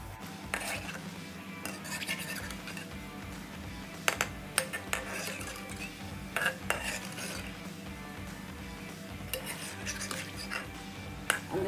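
Andarsa sweets being turned over as they fry in a pan: repeated metal clinks and scrapes of a spatula against the pan over a low, steady frying background, close and fairly loud.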